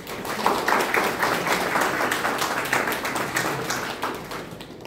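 An audience at an intellectual property workshop claps in a round of applause, a full, steady spread of many hands close by, sustained for several seconds before easing slightly at the close.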